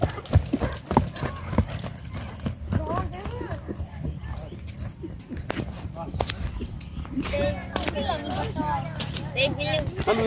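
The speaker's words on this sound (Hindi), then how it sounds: "घोड़ा बहुत नजदीक आ गया।" A horse's hooves clip-clop close by on a village track during horse riding and neza bazi practice, irregular hoof strikes loud and near, with people talking over them.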